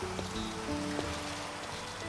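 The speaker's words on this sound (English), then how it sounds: "that's when it started raining again" Steady rain falls in the Minecraft video game, a continuous even hiss of droplets with faint low tones underneath, constant and moderately close throughout.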